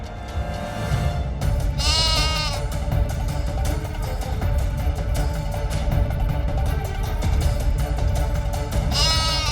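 A plump, sturdy goat lets out two quavering bleats, one early and another right at the end, over a dense, steady wash of loud background noise.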